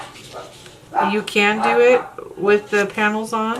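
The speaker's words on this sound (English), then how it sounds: "Sorry about the barking." A dog barks several times in short bursts, close and loud, while a person speaks under and between the barks.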